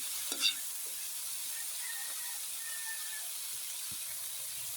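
Okra stir-fried in a pan with a steady, bright sizzle and hiss throughout, a brief clatter of stirring near the start and a faint tap later, no talking.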